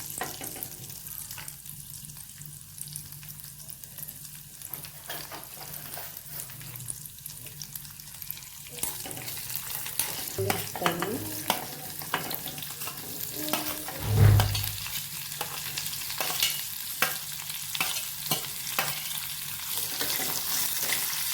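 Mushrooms with ginger and garlic fry in a pan, giving a continuous soft sizzle with occasional stirring scrapes and a brief louder clatter near the middle.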